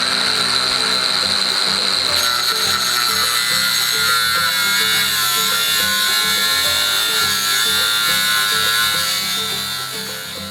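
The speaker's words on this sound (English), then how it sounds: "I cut from the lip here to the lip here with a cutoff wheel" A cutoff wheel grinds through a metal tube to remove a lobe, giving a loud, continuous high-pitched whine that steadies after a brief start and fades slightly near the end, with no talking.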